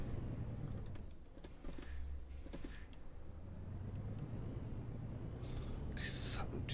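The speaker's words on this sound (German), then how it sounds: "Die Töne von dem O530." Engine of a Mercedes O530 bus in the OMSI 2 bus simulator, UK Edition: a quiet, low idling rumble with occasional clicks and a brief hiss, under soft talk.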